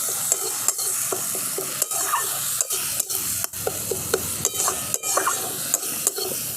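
Spice mix of turmeric, salt, cumin and coriander frying in a pan, with steady sizzling and a spoon scraping and clacking against the pan in repeated strokes, close and alone.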